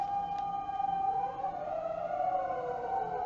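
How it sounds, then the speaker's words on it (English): A fire engine siren wails steadily in the distance, its pitch sliding up and down across a big-city backdrop, with no voices present. "Sounds like fire brigade."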